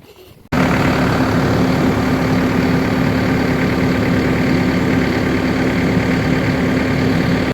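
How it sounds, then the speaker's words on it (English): A tractor engine fires up after a brief quiet moment and settles into a loud, steady idle with a constant low drone, close by and uninterrupted, during a heavy snow storm. "So we're gonna fire this tractor up and get to pushing."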